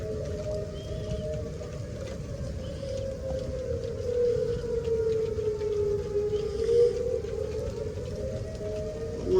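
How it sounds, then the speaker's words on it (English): Tornado warning sirens wail during stormy weather, a steady sustained tone that swells and sags slightly, heard at a distance over a low rumbling background with no talking. "You can hear the tornado sirens."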